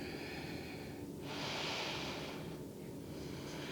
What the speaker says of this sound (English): Nice breathing here.